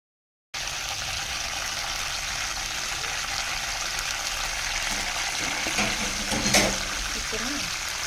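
Mint leaves frying in a little oil in a home kitchen, giving a steady close sizzle that holds throughout, with a brief stir or clatter near the end.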